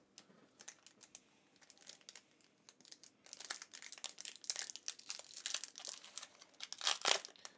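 Crinkly foil wrapper of a Pokémon Shining Fates card pack being torn and peeled open up close, soft scattered crackles building into denser, louder ripping and crumpling toward the end, with no voices.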